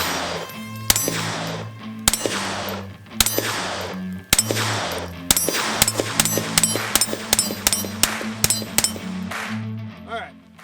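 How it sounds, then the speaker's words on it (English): A Kel-Tec P17 .22 pistol fires CCI Mini-Mag rounds: a string of sharp, ringing shots, spaced at first and then in a quicker run, each cracking loudly with a short echoing tail. "we're gonna put some rounds on target and see how she does"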